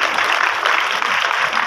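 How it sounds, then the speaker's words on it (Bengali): An audience claps at a student award ceremony honouring top exam scorers, a steady, evenly loud patter of many hands that continues unbroken. "জোরে হাততালি হোক।"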